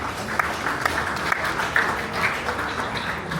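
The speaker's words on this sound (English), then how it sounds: "Please, a round of applause for him." Large audience applause at the 17th Headies music awards show, a dense sustained wash of many hands clapping with a few sharper individual claps standing out, steady and fairly loud throughout.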